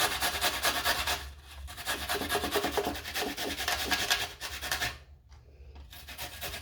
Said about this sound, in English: you go on and grate your garlic